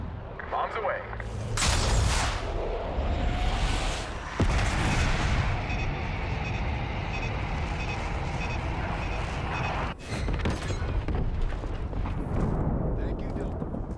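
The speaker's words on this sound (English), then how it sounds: "Bombs away." Airstrike bombs exploding in the Black Ops 6 campaign, a loud sustained barrage of booming blasts and rumbling roar filling the whole stretch, with game dialogue over it.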